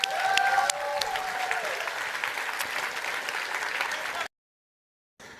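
Conference audience applauding at RDC 2019, a dense burst of clapping that holds steady for about four seconds before cutting off abruptly.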